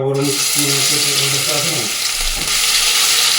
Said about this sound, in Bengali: চিকেনগুলো এক এক করে ফ্রাই করে চিলি চিকেনের কিন্তু চিকেনগুলো আমার একদম ভালো মতন ফ্রাই করা হয়ে গেছে